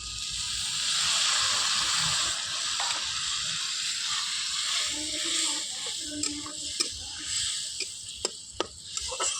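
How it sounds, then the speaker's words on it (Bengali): Vegetables cooking over a wood fire, with a steady loud hiss as a little water goes into the hot pan, then a few sharp clinks near the end. "এখানে আমি হালকা একটু জল দিয়ে দেবো"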